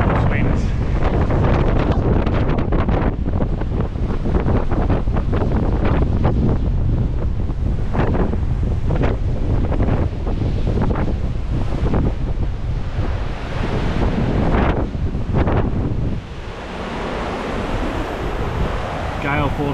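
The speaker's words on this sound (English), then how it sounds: "But gale force winds." Gale-force wind at a free camp buffets the microphone in loud, continuous roaring gusts, with a rush like surf, easing slightly near the end.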